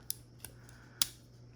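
Small spring-loaded scissors on a multitool snip open and shut in a quiet room, three sharp, close metallic clicks spaced unevenly, the last one loudest.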